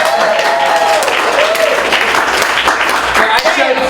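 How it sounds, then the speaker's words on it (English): Loud, close crowd applause at a live comedy show during Trill Fest 2014, continuous clapping mixed with cheers and a few whoops, with voices shouting over it. "Give my man a round of applause for that man."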